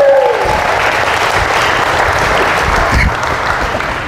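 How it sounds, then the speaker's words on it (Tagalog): Loud, sustained clapping from a large church congregation filling the room, with a brief fading tone at the start and a slight drop near the end. "Pumalakpak nga po ng malakas yung mga inaantok"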